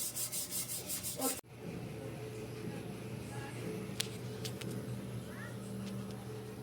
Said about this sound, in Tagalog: pwede na din kayong gumamit ng steel brush para alisin yung pintura